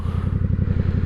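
A 1000cc Ducati motorcycle's engine chugs in city traffic with a steady, pulsing low throb, close and fairly loud for a brief moment.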